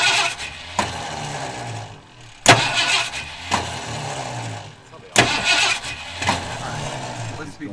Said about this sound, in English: Starter sounds great